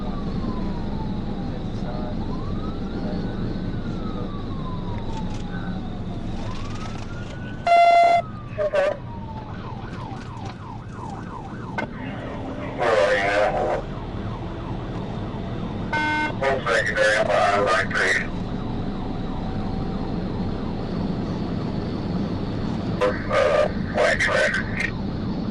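A police car siren wails and yelps during a high-speed pursuit of a speeding vehicle, with rising and falling sweeps, sharp bursts of rapid tones and steady road noise underneath.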